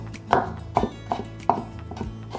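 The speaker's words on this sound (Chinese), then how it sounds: "把红萝卜切条" Knife slicing a carrot into strips on a cutting board, four or five crisp separate chops at an uneven pace, close and clear with no talk.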